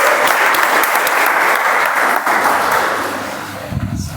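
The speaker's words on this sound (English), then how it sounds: "With a huge round of applause," Loud, dense audience applause at a multilingual club meeting, sustained for several seconds before gradually thinning and fading toward the end.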